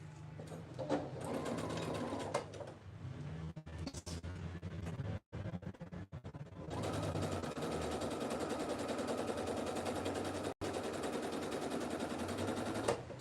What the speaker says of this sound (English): So I'm gonna actually re-stitch over the stitch that I had.